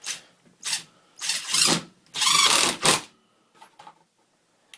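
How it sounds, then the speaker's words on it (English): A Hitachi WH10DL 10.8V lithium impact driver drives screws in several quick bursts, its motor whirring and hammering loudly for about a second at a time, then spinning down, with a couple of faint brief runs at the end. "It also drives them very fast if you just floor it."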